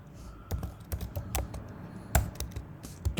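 Quick bursts of keystrokes on a computer keyboard as Python code is typed, uneven clusters of crisp close clicks with brief pauses between words.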